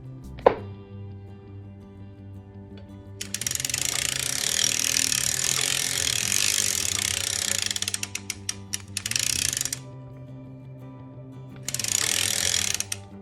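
A hand-cranked sock knitting machine runs through rows of stitches in long, steady bursts of dense rattling clatter, separated by pauses, with a continuous low hum underneath and a single sharp click near the start.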